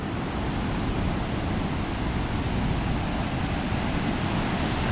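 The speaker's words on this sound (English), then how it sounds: "look at the power of the water here" Powerful ocean waves crashing at a Nusa Penida beach in Indonesia, a steady broad wash of surf and churning water, loud and continuous with no voices.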